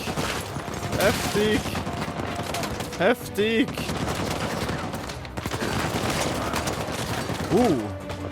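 Gunfire from the video game Uncharted 4, a dense, continuous clatter of shots under excited voices shouting and talking throughout.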